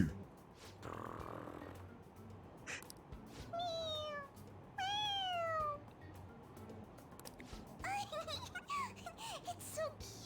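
Morgana, the cat character in Persona 5 Royal, gives several clear, upward-bending meows in short bursts, close and moderately loud over a steady low game background.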